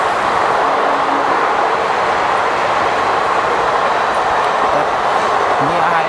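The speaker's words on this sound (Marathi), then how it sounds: "तर ही ट्रेन आहे दिवा पॅसेंजर." Diva passenger train at a crowded station, with a steady, loud rumble of rail and crowd noise filling the whole stretch without break.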